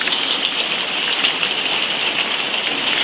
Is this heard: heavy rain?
yes